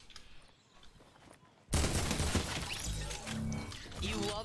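Heavy assault rifle gunfire in the Fortnite video game opens abruptly after a quiet moment, then continues as a loud, dense stream of shots with some overlapping game effects.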